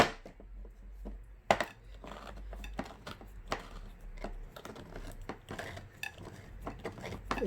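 A knife cuts around the edges of raw chicken for a homemade chicken and potatoes dish, giving scattered close clicks, scrapes and taps against a board and dish, with short sharp knocks at irregular intervals and no talking.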